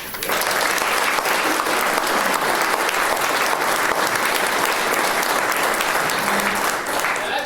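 A lecture audience applauds to welcome the speaker, with a loud, sustained wash of many hands clapping that continues evenly throughout.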